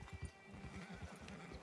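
Horse in Red Dead Redemption 2 whinnies while its hooves clip-clop in a steady rhythm, close and moderately loud, with no talk over it.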